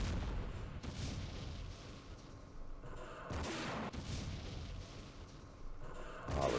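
Heavy booming shots from a recoilless rifle in the Campaign Series Middle East war game, a few deep reports over a constant rumbling battlefield backdrop.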